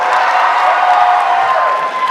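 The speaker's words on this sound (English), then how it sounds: "give me a round of applause." A Perth cosplay contest audience bursts into loud, steady applause and cheering, a thick roar of clapping and shouts that runs unbroken and fades slightly near the end.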